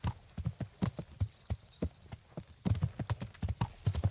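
Horse hooves clip-clop in quick, uneven beats in a video game, close and distinct, pausing briefly before resuming louder.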